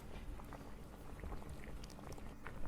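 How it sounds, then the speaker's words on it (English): Cream comes to a light boil in a heavy saucepan, giving a faint, soft, steady bubbling with scattered tiny pops and crackles close by. "we bring the cream to a light boil in this heavy saucepan"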